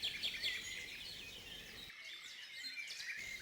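A small bird calling from beside its nest on an April dawn, faint high chirps and twitters running steadily on, soft and somewhat distant, with no voices.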